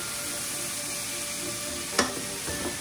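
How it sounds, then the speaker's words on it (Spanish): Rice, already washed, being sautéed in hot oil over high heat, giving a steady close sizzle throughout with a brief sharper crackle or stir near the middle and no talk. "Vamos a sofreírlo"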